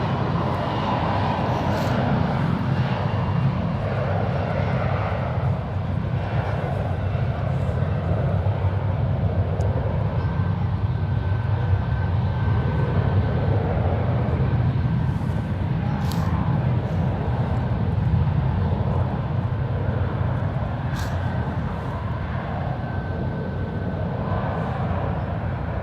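Airliner jet engines roar in a steady, loud, unbroken wash during a takeoff roll from runway 1 left at San Francisco International Airport, heard from a distance with no voices over it.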